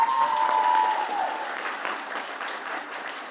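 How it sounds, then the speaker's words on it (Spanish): Congregation applauding inside a church during a service celebrating a couple's union, steady clapping that gradually softens, with a brief whistle-like tone near the start. "Un aplauso para ella."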